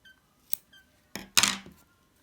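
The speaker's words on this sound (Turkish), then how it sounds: "Bir tane de zincir çekip ipimi kesiyorum." Scissors snipping crochet yarn after finishing baby booties, a small sharp click followed by a louder scraping cut, close and quiet with no voices.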